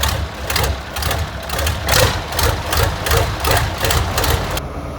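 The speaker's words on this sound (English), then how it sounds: "So I've got this tractor." A Massey Ferguson 1805 tractor engine idles loud and close, a steady low diesel rumble with a rhythmic knocking pulse and no talk over it.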